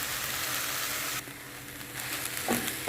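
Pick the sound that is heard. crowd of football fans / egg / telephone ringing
egg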